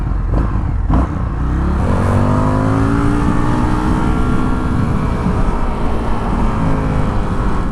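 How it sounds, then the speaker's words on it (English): Indian FTR R Carbon motorcycle fitted with an Akrapovic exhaust accelerating, its engine note climbing steadily and loudly close by with no talk. "Surprisingly, the Akrapovic exhaust sounds tame."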